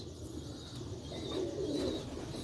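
Sialkoti pigeons coo softly nearby, a low rolling call that swells in the middle of the clip over a quiet background hum.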